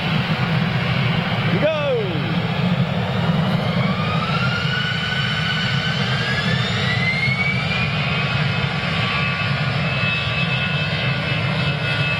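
Jet airliner engines at Manchester Airport roar steadily and loudly throughout, a continuous broadband rumble with rising whine tones, while people talk over it now and then.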